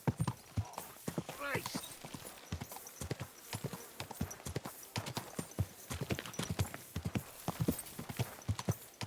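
A horse's hooves clip-clop in a brisk, uneven rhythm of sharp knocks close by, running throughout with a brief whinny early on and someone speaking over it.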